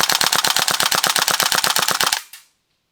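A WE AK74 gas blowback airsoft rifle fires one fully automatic burst of about twenty crisp, evenly spaced shots over two seconds. The burst cuts off abruptly and a short ringing tail fades into silence.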